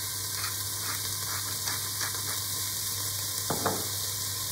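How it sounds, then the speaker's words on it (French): Chicken pieces and lardons sizzle steadily in a pot over a lowered flame, a constant frying hiss with a few soft scrapes of stirring, including a clearer scraping sweep near the end. "Je remue, je baisse mon feu."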